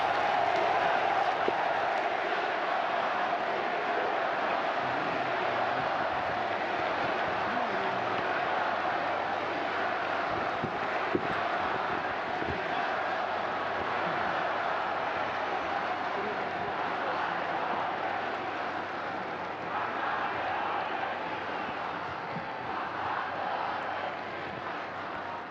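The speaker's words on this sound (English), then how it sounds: "What's the crowd chanting, Todd, for people that don't know?" A large crowd roars and chants steadily for the whole stretch, a dense, distant wash of many voices with occasional louder swells.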